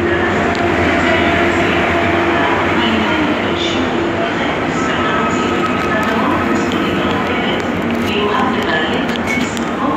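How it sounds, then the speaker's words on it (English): A train arriving at a station rumbles steadily nearby with continuous rail noise and occasional metallic clicks, loud and unbroken throughout. "So, my train is there, I think."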